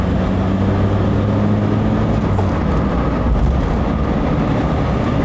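Steady engine and road noise from a 1967 Audi 80 Variant with a column gear change, driven at a constant pace, heard from inside the cabin as a continuous low rumble with no talk.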